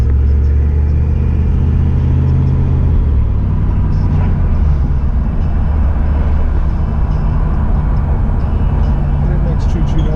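A 1982 car accelerating on the road with a turbocharged setup: a loud, close engine rumble that rises and holds steady from inside the cabin, with people talking over it.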